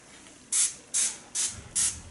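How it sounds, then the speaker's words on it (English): Four short, even hisses from a pump spray bottle spraying leave-in conditioner onto 4C hair, evenly spaced and close by, with nothing else but faint room noise. "And I'm just spraying all around"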